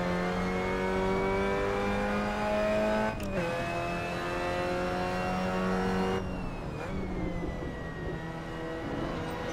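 A race car engine from an MX-5 Cup race at Paul Ricard in the Assetto Corsa sim racing game, droning steadily at high revs with pitch shifts and a downshift partway through, loud and continuous with no talk.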